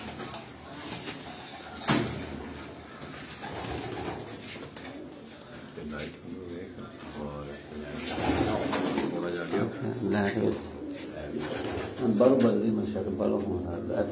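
Flying pigeons kept in rooftop cages cooing in soft, repeated throaty bursts, moderately near, mixed with someone talking and occasional bumps and rustles.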